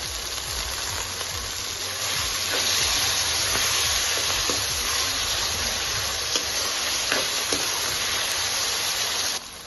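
Whole red chilies sizzling in hot oil for dhaba-style mutton keema, a dense, steady hiss of frying with faint stirring clicks, close and loud throughout with no talking.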